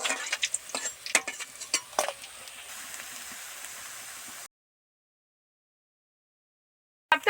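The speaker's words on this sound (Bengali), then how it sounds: "একটু ডিপ ফ্রাই করে মাছগুলো ভেজে নিলাম" Fish deep-frying in a pan of hot oil, a steady crackling sizzle with sharper pops early on. It cuts off abruptly halfway, followed by silence.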